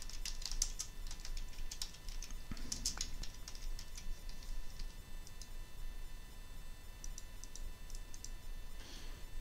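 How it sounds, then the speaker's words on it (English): Soft, quick keystrokes tap steadily on a computer keyboard as a name is typed during a Windows Server setup in VirtualBox. The clicks are faint and close, with no talking. "First typing the name."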